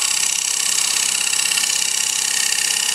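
A gouge cuts wood while hollowing a short stack bowl on a lathe, a loud, continuous, even whir with steady vibration and no pauses.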